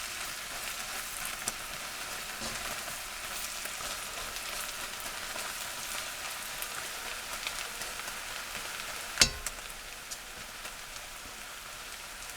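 Sausages fry steadily in a pot on a cold day in Tyler, Texas, giving a continuous crackling sizzle like rain, with one sharp knock partway through.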